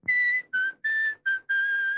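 A person whistles a short tune in five sustained notes with small gaps between them, close and clear, with no talking.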